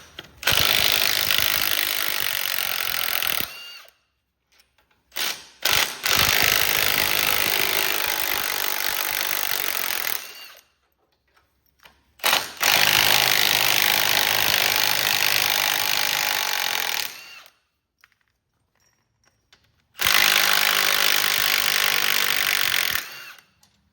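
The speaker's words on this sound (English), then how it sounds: "Now we're going to take the axle bolts out and we're going to see if we can drop it down." Axle bolts come out of a Cub Cadet tractor in long bursts of loud, close mechanical whirring and grinding from a power driver, separated by short silent pauses.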